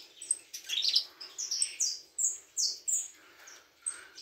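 A male canary in a cage with a female chirps and tweets in quick bright bursts, a series of short, sharp calls repeating close by in an otherwise quiet room.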